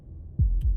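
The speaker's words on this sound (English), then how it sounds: "That was the sound of a heartbeat." Two deep, muffled heartbeat thumps in Slay the Princess, the second following close behind the first over a low steady hum, with no other sound.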